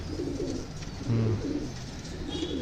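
Soft, near pigeon cooing from a Punjabi flying pigeon hen, a few low throaty coos with one louder burst in the middle, over faint background noise.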